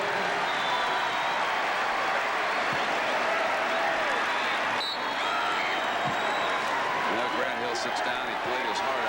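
The Wake Forest home crowd cheers and applauds at a 1994 college basketball game against Duke, a broad roar that rises and falls while a commentator keeps talking over it.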